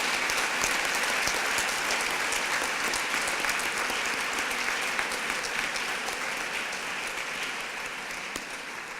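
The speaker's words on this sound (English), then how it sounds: "Would you please give them a round of applause?" A graduation audience at an academy ceremony applauds steadily for about nine seconds, a dense, even wash of many hands clapping that fades slightly toward the end.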